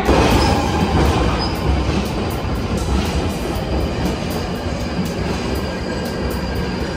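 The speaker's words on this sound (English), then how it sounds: "Our train is here." A London Underground Northern Line train bound for Edgware pulls into a platform with a loud, close, steady rumble and faint wheel squeal. No voices can be heard.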